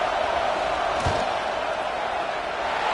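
A stadium crowd at a Clemson versus Texas football game roars during a field goal attempt, a dense, steady wall of noise with a single dull thump partway through.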